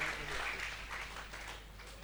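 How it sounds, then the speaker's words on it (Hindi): An audience at a Hindi kavi sammelan in Delhi gives soft, distant applause, with a steady patter of clapping that slowly fades over a low hum. "आप खुल के ताली बजा सकते हैं, सरकार ने कोई GST नहीं लगाया"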